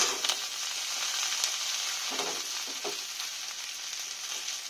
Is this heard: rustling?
no